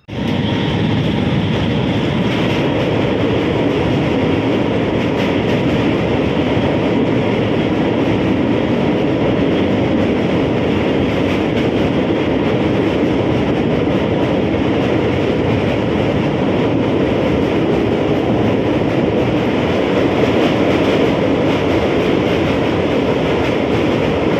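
Onboard the Sealdah–Siuri MEMU Express as it runs, a loud, constant rumble of wheels and carriage noise continues without a break, with no talk.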